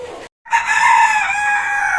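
A rooster crows on a rooftop where chickens are kept: after a brief silence, one loud, sustained, ringing crow rises and holds steadily to the end, close by and with no talk.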